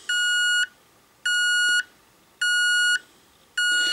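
SRP-68-01 radiation dosimeter-radiometer sounding its alarm: four loud, shrill electronic beeps, each about half a second long, repeating evenly with short pauses between, close and alone.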